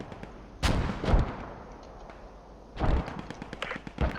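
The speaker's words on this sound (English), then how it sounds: "Good team firing." Team gunfire in a multiplayer video game match, heavy booming volleys and rapid overlapping shots in two loud bursts, close and dense, with scattered crackling shots between them.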